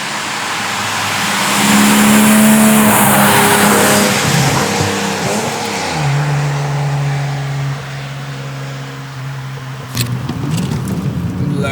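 A 1997 BMW E36 engine with a closed airbox revs hard and roars loudly, shifting pitch as it accelerates and drops through gears on a mountain pass road, with a brief tire squeal near the end.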